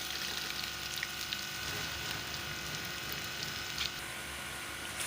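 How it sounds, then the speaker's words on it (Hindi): Garlic and ginger frying in a pan for a tori (ridge gourd) sabzi, giving a dense, continuous sizzle and crackle heard up close, steady throughout with no talking. "और ये लहसुन अदरक फ्राई कर रही हूँ"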